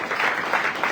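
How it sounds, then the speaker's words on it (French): A church congregation at a weekly service applauding, a dense, steady patter of many hands clapping at once, fairly close and continuous through the brief moment. "Acclamons le Seigneur"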